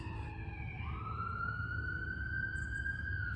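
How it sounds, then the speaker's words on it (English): A wailing emergency siren sweeps in long, smooth tones from a distance, steady and moderately loud over a low rumble of traffic. "ambulance."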